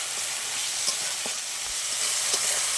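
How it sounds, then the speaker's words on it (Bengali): Spice masala with chillies, turmeric and salt fries in a pan, a steady close hiss of sizzling oil with a few soft scrapes and taps from stirring. "ভালো করে মশলাটা কষিয়ে নেব।"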